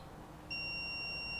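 A digital multimeter gives a steady, clear continuity beep while testing the side stand switch plug on a KLR650 motorcycle, sounding at moderate level after a brief quiet start.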